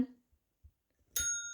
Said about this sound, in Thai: ไปกดกระดิ่ง